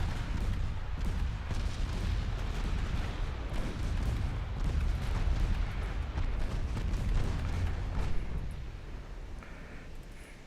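Naval gunfire from 7-inch guns in a warship battle video game, heavy booming salvos and rumbling blasts layered thickly over one another, loud and sustained throughout with no speech.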